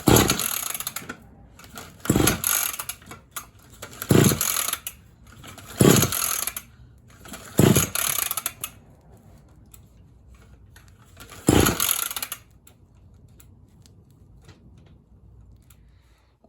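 A 50cc motorcycle engine fitted with a Syx Moto performance carburetor, choke on, fires in about six loud revving bursts roughly two seconds apart, sputtering and dropping to a low rough idle between them before fading out.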